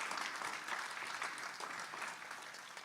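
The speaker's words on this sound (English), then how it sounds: "Can we get a round of applause for MTS and their partnership?" An outdoor crowd at an affordable housing opening at a transit center parking lot claps for a partner organisation, a brief, faint but busy patter of applause with no talk over it.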